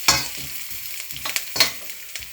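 Peanuts, about 30 to 40 kernels, dropped into hot oil for chicken chilli, crackling and sizzling in uneven bursts with a few sharper pops, close by and moderately loud, no voices.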